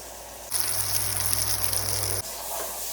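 Butter and olive oil melt together in a pan on a cooker, giving a steady bright sizzling hiss that starts abruptly, holds for under two seconds, then cuts back to quieter background.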